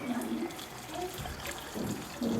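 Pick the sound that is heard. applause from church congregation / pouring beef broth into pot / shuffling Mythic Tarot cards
pouring beef broth into pot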